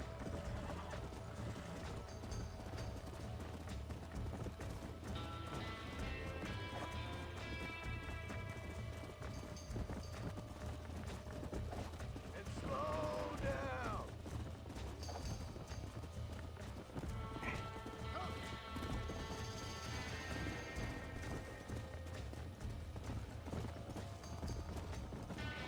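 A horse in the video game Red Dead Redemption gallops with steady, continuous hoofbeats, over quieter game sounds and background effects, throughout.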